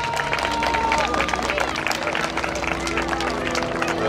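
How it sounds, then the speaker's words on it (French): Air show spectators applauding and cheering for a Baron 55 aerobatic display at the Prouvy meeting, a dense steady wash of clapping and crowd noise throughout, with a faint tone over it. "je vous demande un tonnerre d'applaudissements pour Mika Brageaud"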